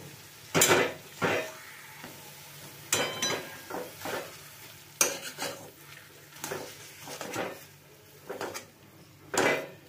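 Boiled potato is mashed together with coriander leaves in a pan over a low flame, with repeated sharp scrapes and clanks of a metal spoon against the pan in irregular bursts between short pauses.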